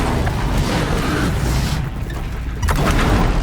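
The Tear Blaster weapon fires at a Ravager machine in the game Horizon Zero Dawn, a dense, continuous blast of booming noise and rumble with no gaps.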